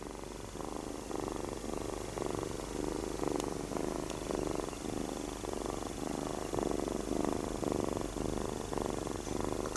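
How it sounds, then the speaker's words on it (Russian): A cat purrs close by in a steady rhythmic rumble, each breath cycle pulsing evenly and unbroken, quiet and alone. "что она тут мурлычет"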